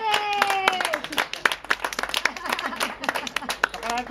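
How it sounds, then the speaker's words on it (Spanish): Audience clapping and applause at a live rooftop jazz gig by a duo at a pub, a dense burst of hand claps with cheering voices mixed in, close and loud, tapering into scattered claps. "¡Un aplauso para ella!"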